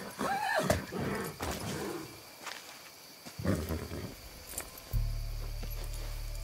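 A horse in the video game Far Cry 6 whinnies loudly several times amid hoof clops and scuffling, followed by a steady low hum.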